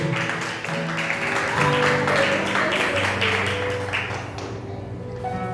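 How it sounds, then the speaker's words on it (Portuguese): A church congregation applauds, giving steady dense clapping throughout with sustained music tones underneath, loud and continuous until it fades near the end. "Você pode tomar os seus assentos aplaudindo a palavra do Senhor."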